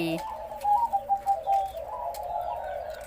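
A spotted dove of the si pa type with a big voice gives a run of deep, rounded coos, a few distinct notes in a rhythmic phrase, fairly close over faint background noise.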